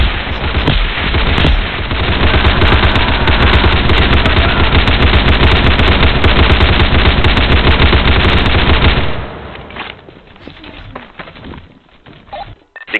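Sustained, loud automatic gunfire in the Roblox shooter Unit: Classified, a dense rapid rattle of machine-gun bursts for about nine seconds that then breaks off into scattered quieter shots and game noise.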